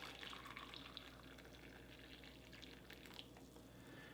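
Hot water poured from a kettle into a cup for tea, made up from a Russian expedition IRP ration: a faint, steady liquid trickle running through the whole short stretch with no talk.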